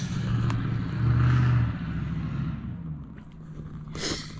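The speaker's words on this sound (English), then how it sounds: "you probably hear in the background all the trucks trying to go back up the trail" Truck engines rumble and rev from a distance as vehicles climb a forest trail in a Connecticut state park, a low steady drone with a rising surge partway through.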